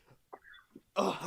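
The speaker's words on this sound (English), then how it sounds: "that was a hard cough" A single hard, harsh cough bursts out loudly at the end, preceded by a few faint breathy throat sounds, close to the microphone with no talk.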